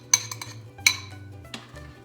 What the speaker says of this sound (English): Give it a gentle little stir.